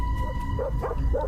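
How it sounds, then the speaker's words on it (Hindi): A dog barks a few times outside a house at night during a neighbourhood power cut, with short, moderately loud yips over a steady background hum. "किसे भौंक रहा है?"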